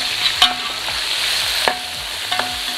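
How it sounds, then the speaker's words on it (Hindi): Chicken for Hyderabadi biryani fries in a pot and is stirred, loud close sizzling with a few sharp scrapes of the spoon against the metal, no talking. "ये आ गया इसमें चिकन, और इसके बाद इसको थोड़ा सा करेंगे फ्राई"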